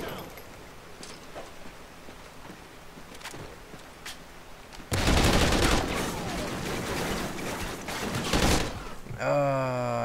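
Rapid gunfire from the Call of Duty Ghosts video game erupts loud and dense in the second half, following a quieter stretch with a few sparse shots. Someone talks over part of it.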